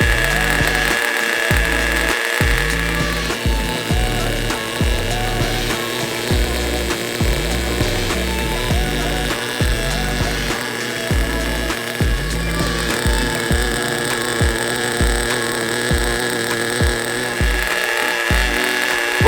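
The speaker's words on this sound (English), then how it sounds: "Listen to that beautiful idle." An ENYA 11CX nitro race engine idles on a test stand during first start-up and break-in. It gives a loud, continuous buzzing drone with a rapid, slightly uneven rhythm throughout.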